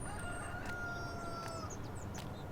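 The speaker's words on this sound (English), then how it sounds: "And we have the chickens back here." A rooster crows and chickens cluck on a Farming Simulator 19 farm, several overlapping calls rising over a steady, dense ambient farmyard bed.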